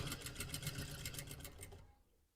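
A sewing machine stitches a zipper fly guard onto corduroy shorts, running as a steady, fast, close mechanical whir of needle strokes for about two seconds before stopping, with no talk.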